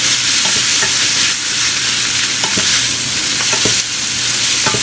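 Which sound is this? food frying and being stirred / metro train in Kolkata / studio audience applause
food frying and being stirred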